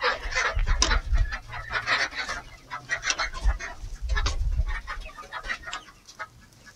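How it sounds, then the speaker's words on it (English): Several backyard flock ducks quack and cluck in bursts, some close and loud, others overlapping in a noisy, chattering flock. "Silly ducks."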